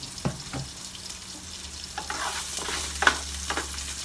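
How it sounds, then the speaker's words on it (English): Onions soften in a pan with a little salt, a faint steady sizzle broken by several scraping, clacking stirs of a utensil against the pan. "So while those onions are softening,"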